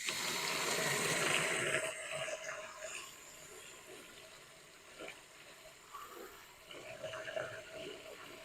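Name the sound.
water flowing through solar birdbath fountain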